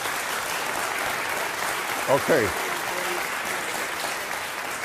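An audience applauds through the whole stretch after a question at a debate, a steady wash of clapping under which one voice speaks briefly.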